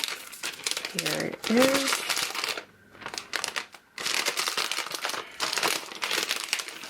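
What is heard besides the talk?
peeling plastic film off iPad Pro 9.7 box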